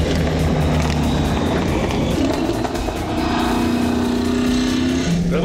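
A Chevelle NASCAR race car engine roars continuously up close, its pitch shifting and climbing as the throttle rises, with tire and wind noise under the loud, sustained drone.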